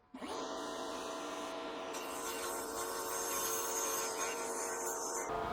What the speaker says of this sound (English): it's a piece of cake for the table saw to cut aluminum